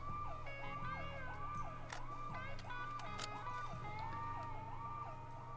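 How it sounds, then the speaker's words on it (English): Car alarms blare in the Vigor video game, a loud, continuous wail whose pitch sweeps up and down in quick, repeating cycles over a low engine-like rumble, with no talking. "set off the car alarms"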